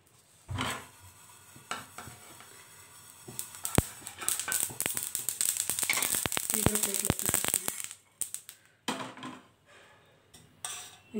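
Sesame seeds dry-roast in a pan for coriander tomato chutney, giving a dense crackle with spoon-and-pan clatter that builds in the middle and thins toward the end.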